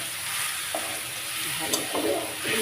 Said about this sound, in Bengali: পেঁপে আলু ভালো করে এই মশলার সঙ্গে কষে নিলাম